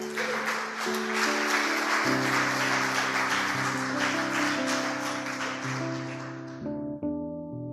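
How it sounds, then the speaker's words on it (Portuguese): Church congregation clapping in praise during a sermon, a broad wash of hands under sustained organ or keyboard chords that carry on alone as the clapping fades out near the end. "Vamos se colocar aplaudindo Jesus?"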